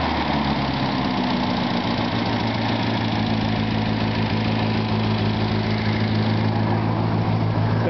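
A 1965 Volvo engine idles steadily and close, timed at 14 degrees before top dead center, with a constant low rumble and no voices throughout.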